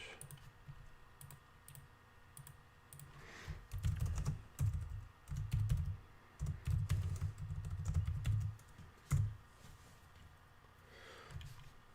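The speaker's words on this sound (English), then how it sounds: "Let's type a message." Computer keyboard keys being typed in bursts of rapid clicking, close and fairly loud, with pauses between runs and quiet room noise around them.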